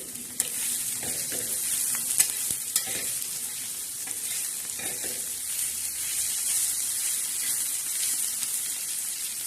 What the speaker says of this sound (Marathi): आता छान अशी आपली शेंगदाण्याची चटणी पाकीची छान अशी तळत आहे म्हणजे मस्त अशी खरपूस अशी भाजत आहे